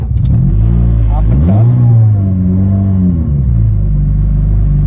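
A car engine revving up and down in several swelling, falling surges, loud and close, with a low rumble throughout.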